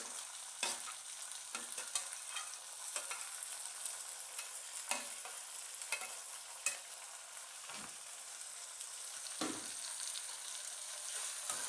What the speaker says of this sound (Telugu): ఇలా టమాటోస్ వేసుకొనేసి పచ్చి వాసన పోయేంత వరకు మనం వేగించుకోవాలి.